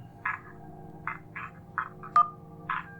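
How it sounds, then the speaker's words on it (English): In the Kentucky Route Zero game, the sound of someone burning a phone book comes as a series of about six short, croaking, frog-like bursts spaced irregularly over a low hum, with a brief tone in the middle. "That was someone burning a phone book."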